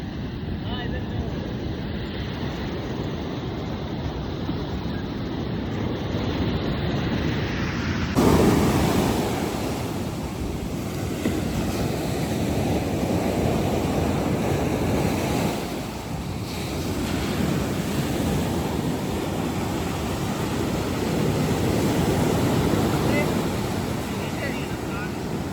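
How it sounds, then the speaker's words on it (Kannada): Sea waves breaking on a beach in Goa near Aguada Fort, a continuous loud surf roar swelling and easing with heavy wind buffeting the microphone. "ಅಲೆಗಳ ಸೌಂಡ್ ಕೇಳ್ರಿ ಹೆಂಗೈತಿ."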